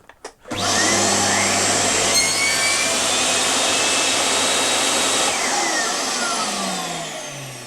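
A table saw fitted with a box-joint jig cuts a second kerf into a wooden workpiece. It gives a loud, steady, close whine and roar that holds for several seconds and then begins to wind down.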